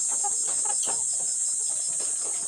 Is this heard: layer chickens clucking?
yes